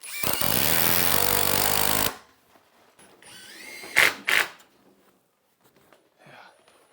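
Power driver sinking screws into wooden roof trusses on a house build, a loud sustained whir lasting about two seconds, then two short bursts of driving, with quiet working noise between.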